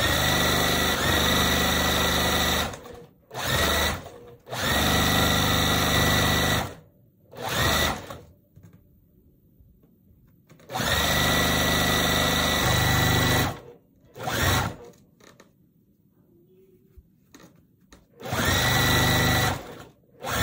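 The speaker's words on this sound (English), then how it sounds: "So what we're doing now is putting it together and sewing all the pieces." A sewing machine joins quilt block pieces for a barn star sampler quilt in several bursts of steady, fast mechanical whirring, close and loud, with quiet pauses between seams.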